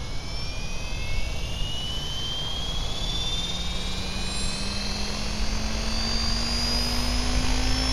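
A Diabolo minicopter, a small single-seat helicopter, flies a low head speed test flight in a steady, loud engine and rotor drone with a slowly rising whine throughout.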